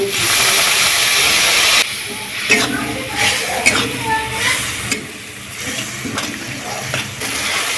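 Green chilies, turmeric and chili powder splashed with a little water into hot oil, giving a loud steaming hiss that drops after a couple of seconds into softer sizzling with stirring clatter.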